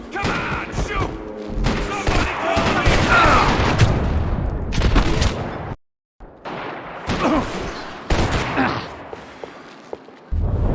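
Gunfire from the Max Payne 3 shooter game, with rapid overlapping shots and booming impacts in dense bursts, loud and close, breaking off briefly before more shots, while voices shout over the action.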